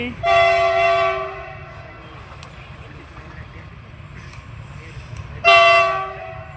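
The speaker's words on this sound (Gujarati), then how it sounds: "તમને લોકોને બતાવું ટ્રેન આવે છે" A train approaching a closed level crossing sounds two loud, long horn blasts, one near the start and one near the end, with a quieter rumble and background noise in between.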